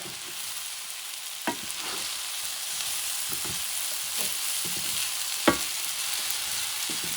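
Chuck steak fried rice stirred in a hot pan, a steady sizzle running throughout with sharp scraping clanks of the utensil against the pan at intervals, close and moderately loud, no voices.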